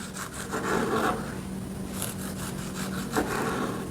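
A serrated bread knife sawing through food, repeated back-and-forth rasping strokes with a steady rhythm, close and moderately loud, no talk.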